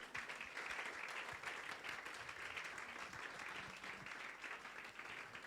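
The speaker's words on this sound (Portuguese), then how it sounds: "Você pode aplaudir o Senhor?" A church congregation claps together during a worship service, a steady, even wash of many hands applauding, continuous and fairly distant, with no voices standing out.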